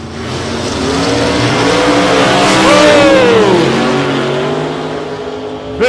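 Two drag race cars, one a Camaro, launch hard off the line at a street drag event, engines roaring loud and near with rising revs and tire noise, holding a sustained blast for several seconds.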